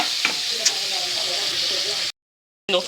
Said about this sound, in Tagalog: Tapos lagyan natin ng water.